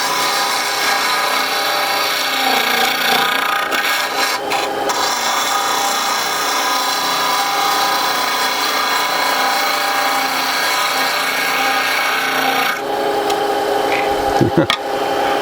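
A turning tool cuts a segmented wooden bowl spinning on a lathe, producing a loud, continuous rasping shear close up that changes character near the end as the cut shifts.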